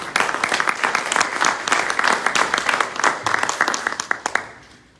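A conference audience breaks into loud, sustained applause welcoming a speaker to the stage, many hands clapping densely close by, fading out near the end.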